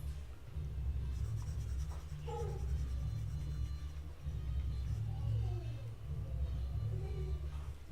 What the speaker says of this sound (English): Okay, I will write this side now.